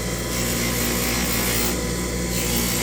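Rotary polishing of a custom dental night guard made for a live patient: a loud, continuous, steady whir with a gritty rubbing texture, no pauses, close up.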